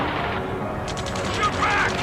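Rapid machine gun fire in the Ace Combat 7 video game, a dense stream of rattling shots with battle noise around it and shouted voices over the top.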